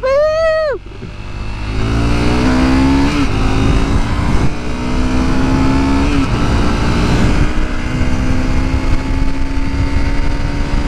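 A car accelerates hard up to highway speed, its engine note climbing loudly and steadily through the gears. The strained roar stays close and continuous.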